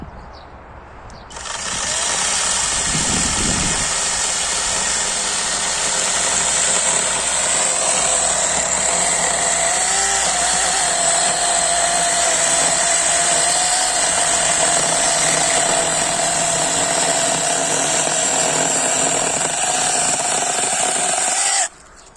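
A Procraft PKA46 cordless saw starts up and cuts wood continuously for about twenty seconds with a loud, steady high-pitched whine, then cuts off abruptly.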